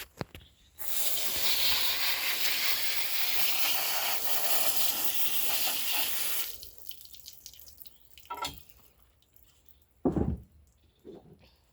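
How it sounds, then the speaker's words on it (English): Water spray hisses steadily for about six seconds while a pig carcass is rinsed down, then stops abruptly, leaving a few scattered knocks and brief handling noises near the end. "Now what we're going to do is give it a rinse down"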